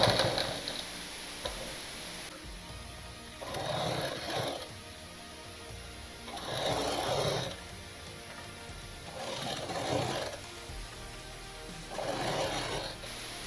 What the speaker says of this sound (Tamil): இந்த தையல் மறையிறதுக்கு டபுள் ஸ்டிச் மாதிரி பக்கத்தில் ஒரு தையல் போடணும்.